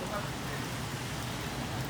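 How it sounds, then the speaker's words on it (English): Heavy rain falls as a dense, steady hiss with low rumbling underneath, continuous and fairly loud throughout, with a voice partly present. "It's raining hard."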